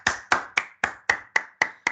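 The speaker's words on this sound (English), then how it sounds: "let's give Diane a big round of applause for asking a question early in the morning" Eight sharp, evenly spaced claps of a single person's hands in quick succession, close and clear, for a student in an online email writing class.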